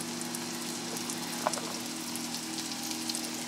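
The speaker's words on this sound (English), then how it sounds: "And we are gonna cook it in batches because we don't want to crowd them." Mushrooms sizzle in oil and butter in a pan, cooked in batches for Boeuf Bourguignon, giving a steady close crackling hiss with scattered pops and no talking.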